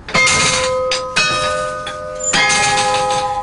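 Carillon bells of the Collegiate Church of Saint Jean in Liège, struck in several loud, ringing strikes with long shimmering decay, played from a baton keyboard linked to the clappers, no voices heard.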